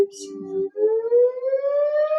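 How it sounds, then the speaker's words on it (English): A siren wails loud and close, holding a steady tone, breaking off briefly, then rising in pitch in one long sweep. "Bill, we got a siren going"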